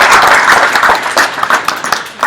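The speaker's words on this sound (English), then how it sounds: "Give yourselves a round of applause." Brief close clapping from a community gathering, a quick burst of hand claps and applause lasting a couple of seconds, loud and near.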